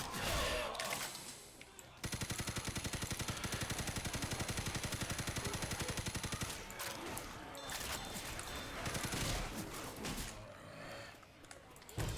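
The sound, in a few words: gunfire in video game Left 4 Dead 2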